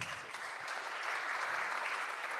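An audience at a Salesforce Marketing Cloud user group evening event applauds steadily, a dense, even wash of many hands clapping throughout at moderate volume.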